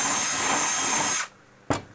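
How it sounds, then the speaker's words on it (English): A power drill pre-drills holes into a wooden sign blank with a loud steady whir that stops abruptly, followed by a short second burst of drilling. "pick 3 areas to pre-drill"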